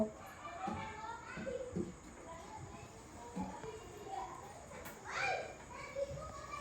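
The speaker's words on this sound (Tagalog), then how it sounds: "Ang ingay ng mga bata." Children play noisily in the background at a home during a tilapia meal, their chatter and shouts rising and falling. Distant voices mix with a closer sharp outburst near the end.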